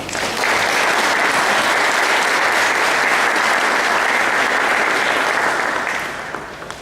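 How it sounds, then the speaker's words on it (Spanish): Dense, sustained applause from a conference audience at a legal lecture on criminal procedure, steady and loud for about six seconds before tapering off at the end. "les damos un caluroso"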